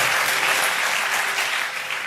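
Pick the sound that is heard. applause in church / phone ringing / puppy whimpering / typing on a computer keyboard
applause in church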